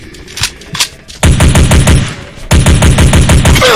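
Bursts of M4A1 assault rifle fire in the audio game Swamp, loud rapid automatic volleys in two long strings after a few brief earlier shots, with no talking.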